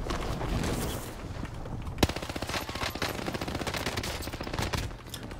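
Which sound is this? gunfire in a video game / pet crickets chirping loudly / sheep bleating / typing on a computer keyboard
gunfire in a video game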